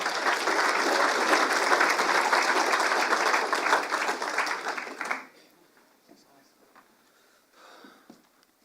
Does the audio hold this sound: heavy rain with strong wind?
no